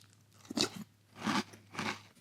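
Crunchy Corn Pops cereal is chewed close to the mic in three distinct crunching bursts with brief pauses between, no talking over it.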